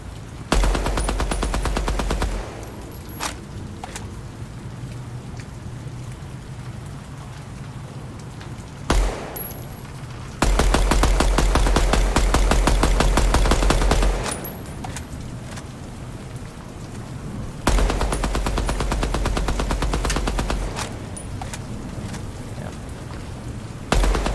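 Gunfire in the video game Deadrop, with long bursts of rapid automatic shots broken by short pauses, loud and close, over a steady background hum.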